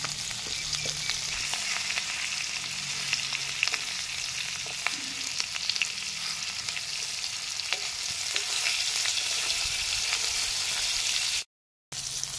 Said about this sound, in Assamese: গোটেইখিনি তেলতে ভাতকেৰেলাখিনি ভাজি লওঁ